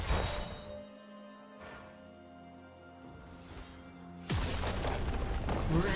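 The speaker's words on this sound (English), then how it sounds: "Red Team's turret has been destroyed." A League of Legends turret being destroyed during a top-lane Riven versus Gwen match, heard as a booming explosive blast that fades and then a second loud burst of crashing debris and impact noise.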